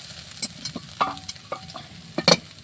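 Fried banana flower is stirred in a pan until dry, with a soft sizzle in the background and a handful of distinct scraping and clinking strokes from the spatula at uneven intervals.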